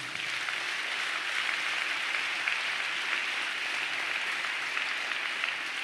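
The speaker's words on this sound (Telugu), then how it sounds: "2 చేతులెత్తి ఈ మాటకి గట్టిగా చప్పట్లు కొట్టండి." A church congregation claps together at a pastor's call during a Telugu sermon, producing a steady, dense wash of applause that holds evenly from start to finish with no voices over it.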